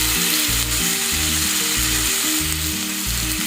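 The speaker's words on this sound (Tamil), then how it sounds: "அப்படியே இது வந்து திருப்பி விட்டு இன்னொரு சைடு வேகலாம்." Fish fries in a pan after being flipped, a loud continuous sizzle over a low rhythmic droning hum from nearby equipment, with no speech.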